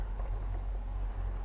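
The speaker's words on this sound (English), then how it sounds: "You can hear that in the background, that's my fan." A low, steady whooshing drone of a fan runs continuously, faint and even, with no other sounds.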